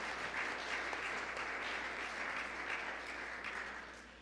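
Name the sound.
congregation clapping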